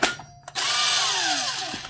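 A DeWalt 36V impact wrench works at a drill chuck on a 36V hammer drill, a short burst followed by a loud sustained whine whose pitch sweeps downward, then stops abruptly.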